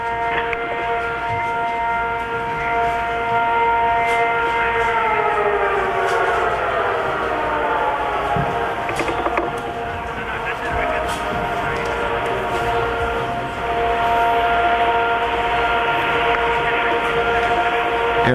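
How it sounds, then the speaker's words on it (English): Air raid sirens wail over Riyadh, Saudi Arabia, at the start of the 1991 Gulf War, long rising and falling tones heard from a distance with background noise and faint voices. "Air raid sirens in Riyadh, the capital of Saudi Arabia"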